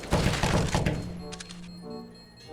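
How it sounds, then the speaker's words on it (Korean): Bomb defusal in the video game Counter-Strike: Global Offensive, a burst of dense clacking thunks at the start, then a few sharper clicks fading to a quiet electronic hum, with no talk. "폭탄 건드린거 소리 나는데"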